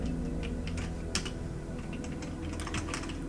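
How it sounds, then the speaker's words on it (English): Computer keyboard keys are pressed in quick, irregular bursts during a game, close clicky taps over a steady background hum, with one sharper knock partway through. "Trying to hit all my buttons."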